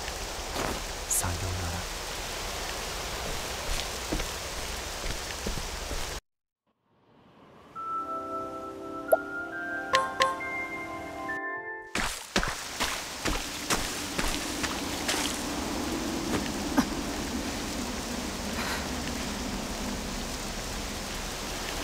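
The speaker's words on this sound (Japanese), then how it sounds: "雨はまだ止みそうにない" Steady hiss of rain in the video game Octopath Traveler II, broken by a brief silent gap and a short musical chime passage, then the rain returns with soft dripping ticks. A voice speaks briefly.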